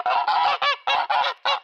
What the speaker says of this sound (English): The geese saw me with something white in my hand,